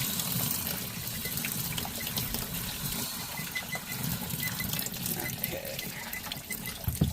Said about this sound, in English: I'm rinsing off the outside of the seal, making sure we don't get any other grits into the mix